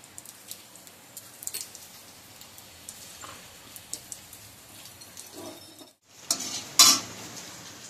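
A dry red chilli and panch phoron spices hit hot oil for a lemon rohu fish dish, with scattered spoon clinks and stirring taps over a soft sizzle, then a brief pause and a sharp louder crackle near the end.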